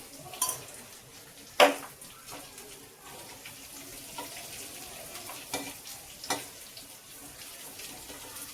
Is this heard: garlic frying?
yes